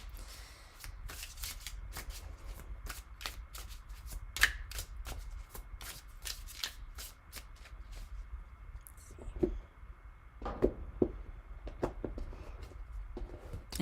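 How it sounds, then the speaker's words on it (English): Repeated riffle shuffles of a tarot card deck, crisp fluttering bursts one after another, close and fairly quiet, with no talking. "I'm gonna do a couple more shuffles this way"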